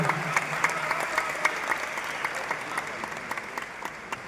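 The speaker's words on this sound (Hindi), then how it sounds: "एक बार दोनों हाथ उठाकर तालियां हो जाए" Steady applause from an audience at a live Hindi speaking event, thick and continuous with scattered sharper claps, sustained for the whole stretch without speech.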